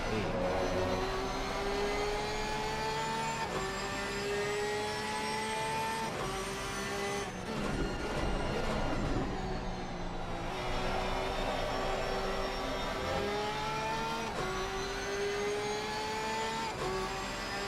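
A Porsche race car accelerates on a racing circuit, its engine note climbing in pitch through repeated gear changes, loud and continuous with other engines droning along the track.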